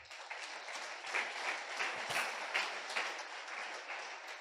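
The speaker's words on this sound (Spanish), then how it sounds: "Le damos un aplauso a este actor." An audience applauds an actor at a church gathering, a steady sustained wash of many hands clapping at moderate distance, fairly uniform throughout with no voices standing out.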